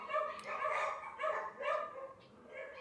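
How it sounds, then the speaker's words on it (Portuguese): Neighbor's dogs bark several times in short bursts, moderately close, with brief pauses between barks and no talking. "Os cachorros do vizinho hoje estão"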